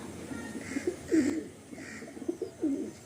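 Soft, low coos of Madrasi pigeons repeat in short throaty bursts, close by and fairly quiet, with a faint background hum.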